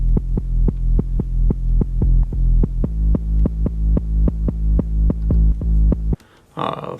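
Deep bass chords pulse in a steady repeating rhythm on the same root notes, about two throbbing hits per second, loud and close, then cut off into a brief voice.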